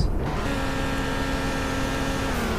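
A 2014 Fiat 500c with a 1.4-liter 135-horsepower four-cylinder engine accelerates, its loud, steady engine drone rising gradually in pitch over a couple of seconds, with no talking.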